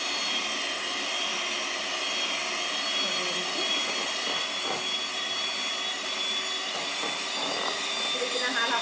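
An electric beater mixing batter for a Christmas fruit cake, with a continuous steady motor whine that runs loud throughout, its tone wavering slightly as the beaters move.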